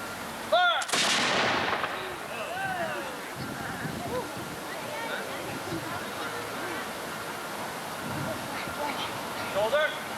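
A firing party at a July 4th celebration in Vernon fires a ceremonial volley: one sharp, loud crack near the start, followed by a long outdoor ambience of crowd murmur, faint voices and birds.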